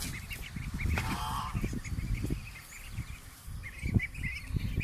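Laying ducks on a farm quack and honk in a loose flock, repeated calls close by with a busy, shuffling background.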